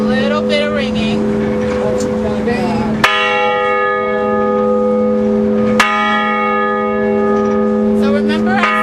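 A ship's bell aboard a 1907 lightship rings out loud and near, two sharp struck tones ringing with long sustained overtones over a steady background hum, with people talking nearby.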